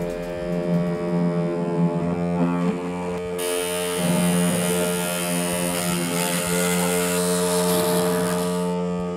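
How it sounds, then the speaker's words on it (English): A small power drill whines steadily for several seconds, its motor pitch shifting slightly as the bit works through a circuit board, with no talking. "I only need to drill the adapter holes."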